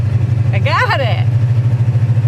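A 1956 Ford F100 pickup engine idles with a steady low throbbing rumble close by, while a voice speaks briefly over it partway through.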